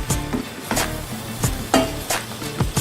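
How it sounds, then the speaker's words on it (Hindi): Chana dal and bitter gourd curry scraped and stirred out of a cooking pan, giving a series of loud, rhythmic scraping strokes with a soft sizzle underneath, about five distinct scoops close up. "अब मैं इसको डिश आउट कर लेती हूँ।"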